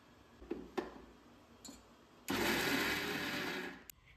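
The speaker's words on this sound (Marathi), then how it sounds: "आता आपण एक एक करून मिक्सरला बारीक करून घेऊ" A few light clicks and taps, then a mixer grinder roars for about a second and a half grinding soaked lentils and rice before stopping abruptly.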